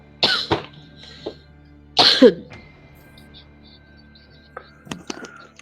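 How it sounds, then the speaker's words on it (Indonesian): Two or three short, sharp coughs close by, separated by pauses, with a few faint quieter sounds afterward. "Batuk"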